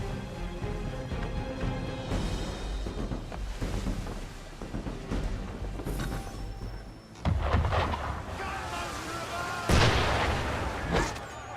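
Heavy cannon fire in Assassin's Creed III booms out at a ship in several deep blasts, two of them standing out sharply, under dialogue and wide game ambience.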